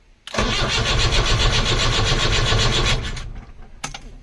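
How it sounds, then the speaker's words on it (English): A Ford Transit engine cranks on its first start attempt with no fuel system connected, a loud, close, steady churning turnover for about three seconds that winds down, followed by a brief second burst. "There's no fuel system hooked up, but it's mainly just to see if she'll crank."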